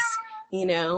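A pet cat meows twice in the background of an indoor interview, two short tonal cries split by a brief gap, fairly loud and close.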